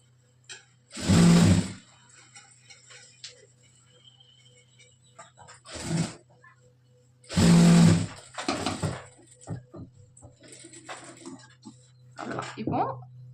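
A sewing machine runs in short, loud bursts while stitching a coat's shoulder seam, separated by quiet pauses and softer handling noises.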